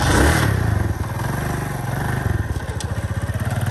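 A motorcycle engine runs close by, starting with a louder rev and then settling into an uneven, chugging idle with a steady pulsing beat.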